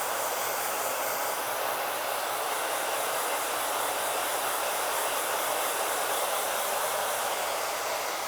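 Hair dryer on medium heat drying a hair topper, a steady close broadband whoosh of blowing air holding at an even level throughout with no talk.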